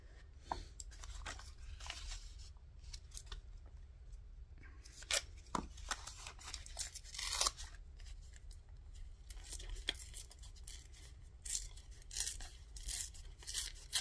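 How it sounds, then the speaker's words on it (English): Paper tears and rips in short, close bursts at a crafting table while altered playing-card holders are made from cupcake liners, with scattered rustling between the tears. "I kind of tore the G off of that."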